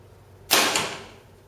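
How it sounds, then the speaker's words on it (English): A single arrow loosed from a bow zips past a radar chronograph, one sharp close whoosh that fades over about a second, with no talking. "we'll shoot a couple more here"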